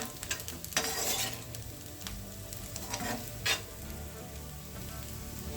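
Spice mixture with coriander powder frying in a pan for banana flower bhaji, a continuous close sizzle with repeated stirring scrapes and clatter, no voices.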